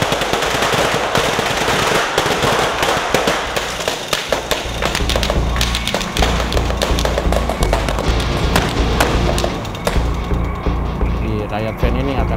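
Special-effects gunfire rakes a riot vehicle on a film set in rapid, sustained bursts of loud cracks and pops, dense and close, with heavy thumps and clatter thickening toward the end.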